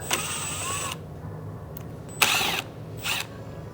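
A power driver whirs in short bursts while T30 screws come out of a Porsche Cayenne crash bar: one long run, a brief blip, then two shorter bursts, close and sharp between quiet gaps.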